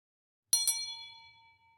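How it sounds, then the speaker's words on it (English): Two quick bright bell dings, close together, followed by a clear ringing tone that slowly fades out in an otherwise silent background; a reward sound effect for the video game Dredge. "to add that sort of that reward, that dopamine, if you like, I've got this bell ringing"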